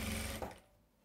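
A sewing machine runs steadily while stitching a zigzag patchwork quilt with TNT fabric, loud and close for about half a second before cutting off into quiet room tone.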